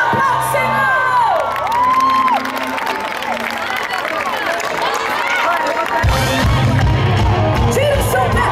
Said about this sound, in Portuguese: Aplausos, Senhor!